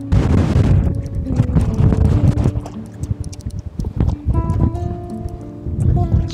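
Strong wind of about 16 metres per second buffets the microphone at the northernmost point of mainland Japan on the Okhotsk Sea coast, a loud continuous roar that eases briefly mid-clip before surging again, with faint tonal sounds underneath.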